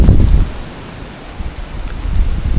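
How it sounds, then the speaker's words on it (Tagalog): Strong typhoon wind batters a mountain summit at Mt. Napulauan in Ifugao during Signal No. 4, booming in low, uneven gusts that buffet the microphone, loud at first, easing, then building again. "Ang hangin, palakas pa rin ang palakas."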